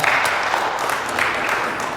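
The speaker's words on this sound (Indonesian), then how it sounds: "tepuk tangan buat Pak Yayat" A crowd applauding steadily for about two seconds, a dense continuous patter of clapping at close range with no clear breaks.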